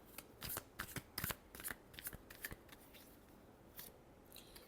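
Tarot cards shuffled close up in a quick flurry of crisp riffling flicks that tapers off into a few scattered soft taps, quiet, with no talking.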